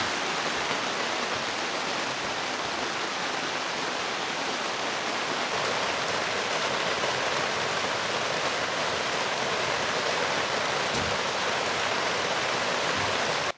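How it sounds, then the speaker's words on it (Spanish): Heavy, steady rain roars as a dense continuous hiss throughout, loud and unbroken with no voices, falling on a cabin under construction. "Ah, pinche lluvia."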